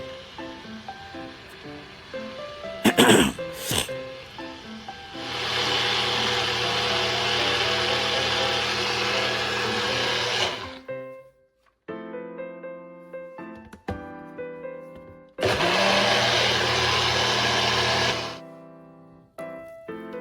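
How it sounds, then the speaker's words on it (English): A blender whirs loudly blending a banana porridge mixture in two long bursts of several seconds each, separated by quieter clinks and handling noises. "Start blending them together until nice and creamy."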